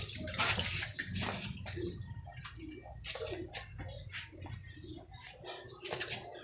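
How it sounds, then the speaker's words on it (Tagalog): Hands being washed under running water, a steady splashing and trickling stream with a few clattering bursts, close and moderately loud throughout. "Hugas lang ang kamay."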